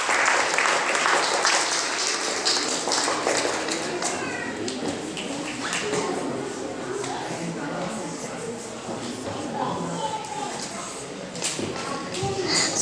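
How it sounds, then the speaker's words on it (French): Audience applause at a school spelling contest: sustained clapping from a crowd filling the room, dense and fairly loud, with some voices talking underneath. "on l'applaudit pour le dernier tour."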